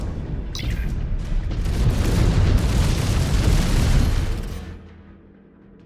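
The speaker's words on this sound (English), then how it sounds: "Incoming missile." A missile blast in the MechWarrior 5: Clans video game: a loud, sustained rumbling explosion with a sharp onset that rolls on for about four seconds before fading into low background noise, with no talking.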